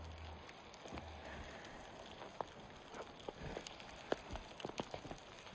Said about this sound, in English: it started raining a bit heavily